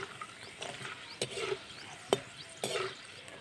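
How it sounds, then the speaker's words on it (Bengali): Peanuts and dried red chillies fry in oil, a soft low sizzle punctuated by a few sharp clicks and scrapes of a spatula against the pan, fairly quiet and close. "তো দেখুন বাদামগুলো ভেজে নেব ভালো করে"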